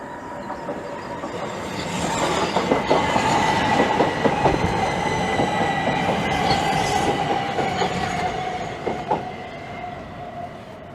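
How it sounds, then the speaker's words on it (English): Southeastern class 375 electric multiple unit pulling into Gillingham station on the Chatham main line, a loud steady rumble with rhythmic wheel clicks over rail joints and a rising brake whine as it slows to a stop. "And now arriving in is 375822."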